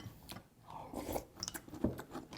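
Close, crisp crunching and chewing as someone bites into red bean flavoured Chex cereal mixed with chocolate chips, with irregular bites and crackles and no talking.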